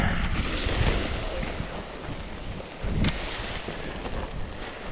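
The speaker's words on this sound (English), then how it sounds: "Ooh, windy, windy, windy." Gusty wind buffets the microphone with a low rumbling roar, swelling briefly near the end, with no voices.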